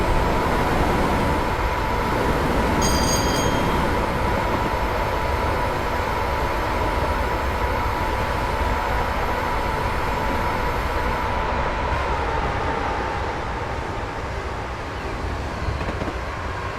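Class 87 electric locomotive on the West Coast Main Line over Shap in Train Simulator 2015, accelerating slowly with a steady, loud motor hum and rail rumble throughout, a brief tonal chime near the start.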